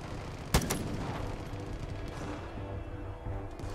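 Gunfire in the video game Far Cry 5: one sharp loud shot near the start, followed by a softer crack, then a low rumbling game ambience with faint distant bursts.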